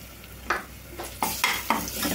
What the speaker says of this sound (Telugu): పచ్చివాసన పోయేదాకా అయితే వేగాలండి అల్లం వెల్లుల్లి పేస్ట్.